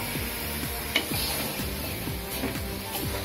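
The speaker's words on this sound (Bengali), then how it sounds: "ভালো করে নেড়ে মিশিয়ে নিচ্ছি" A spatula scrapes rhythmically through bottle gourd and soaked masoor lentils in a hot pan, giving a steady pattern of repeated stirring strokes over a continuous background sizzle.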